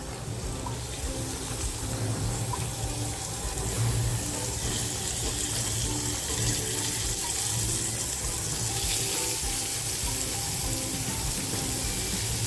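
Prawns frying in oil, a continuous dense sizzle with a watery hiss, steady and close from start to finish.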